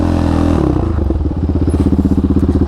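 A quad ATV engine revs hard and loud during a powerslide turn on dirt or pavement, starting with a steady roar and breaking into rapid, pulsing throttle blips with some clatter.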